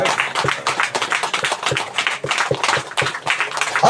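A church congregation claps hands in steady, rhythmic unison, loud and close, with quick repeated beats roughly twice per second and a wash of crowd noise.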